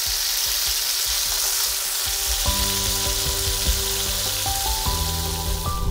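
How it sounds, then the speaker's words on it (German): Loud, steady sizzling of mouflon meat searing hard in a hot pan, with a droning tone and faint clinks underneath. "Den Mouflon haben wir jetzt schnell anbraten, scharf anbraten."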